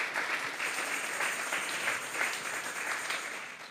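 A church youth-service congregation claps steadily, rather soft and a little distant, with a sustained patter of many hands that swells slightly near the middle and end.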